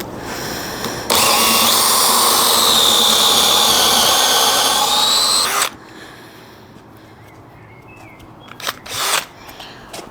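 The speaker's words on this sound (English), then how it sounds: "Each of these holes is going to get a 32mm spade bit about halfway through" A power drill fitted with a 32mm spade bit bores into wood, giving one loud continuous whine of several seconds. It then stops, and quieter knocks and handling noises follow.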